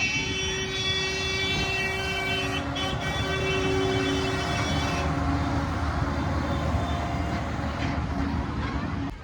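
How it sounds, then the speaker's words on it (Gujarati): Train arriving at Kankaria Lake in Ahmedabad, with sustained horn tones over a rumbling run for the first half before the horn stops and the rolling noise continues. "તો ગાઈસ અત્યારે જુઓ ટ્રેન આવી ગઈ જુઓ"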